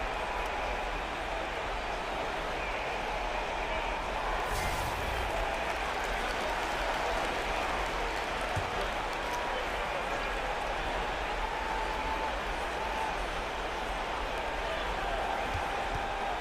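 Basketball arena crowd during an NBA game between the New Orleans Pelicans and Cleveland Cavaliers, a dense, steady roar of cheering and applause filling the whole stretch with no break.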